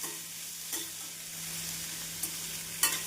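Sliced onions with chopped green chilies sauté over a medium flame, a quiet steady sizzle broken by a few short spoon scrapes and taps against the pan.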